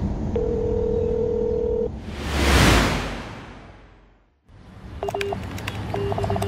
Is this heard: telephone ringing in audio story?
yes